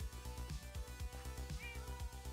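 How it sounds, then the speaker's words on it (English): A short, faint cat meow rises once over a loud, steady rhythmic music bed during a Let's Play session. "I hear a cat."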